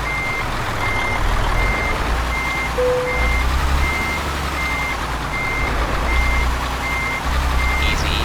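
Reversing truck in Euro Truck Simulator 2 beeping steadily at a regular pace while backing into a parking spot, loud over a constant low engine hum, with no voices.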